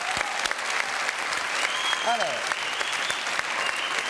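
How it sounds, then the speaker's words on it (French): A crowd applauds steadily throughout, dense and continuous, while a voice speaks briefly over the clapping. "Bravo, applaudissements."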